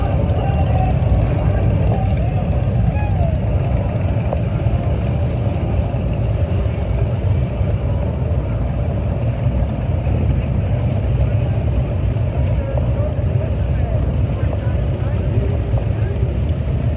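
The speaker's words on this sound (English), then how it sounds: "the motorcycle group is getting ready to take off and head off into Fort Worth" A group of motorcycles idles before departing in Fort Worth's Veterans Day parade, a steady, low engine rumble that runs evenly and unbroken at moderate loudness.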